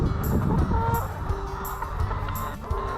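Chickens on a farm in Uddeholm, Hagfors, Värmland, Sweden cluck and call in a steady, busy flock chatter, with a few higher squawks standing out above a continuous low rustling din.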